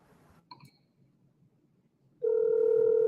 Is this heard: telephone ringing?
yes